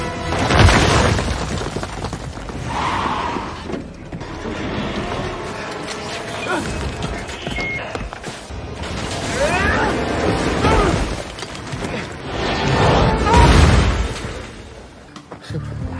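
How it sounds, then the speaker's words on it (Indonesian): A land mine blows up under a car in an action film scene and sets it burning against a rocky hillside, heard as heavy booms and roaring blasts with metallic creaks and rumbling, loud and dense, mixed with other action noise. "Roman yang berada paling belakang terkena ranjau darat yang mengakibatkan mobilnya terbakar dan nyangsang di celah bukit bebatuan"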